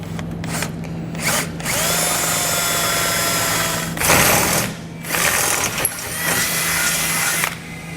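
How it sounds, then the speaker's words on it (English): A power drill with a 1/2-inch bit whines loudly in several bursts, biting into the metal frame of a 2021 Ram 1500 truck with grinding, ratcheting noise and short pauses between runs. "So we're going to be using the same 1/2-inch drill bit that we used on the other hole."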